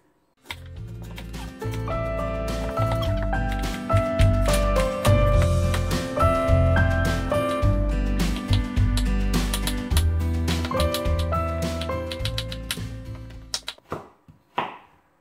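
A knife chops kohlrabi into sticks on a board in a steady, rapid run of close, crisp cuts that stops near the end.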